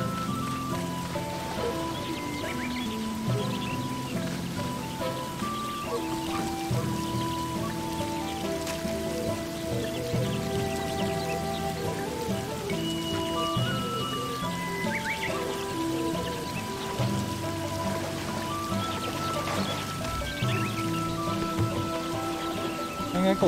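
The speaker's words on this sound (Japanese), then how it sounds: "好像下雨啊" Steady rain in the rice-farming game Sakuna: Of Rice and Ruin, a constant patter of drops that runs the whole time under layered game music, with no gaps.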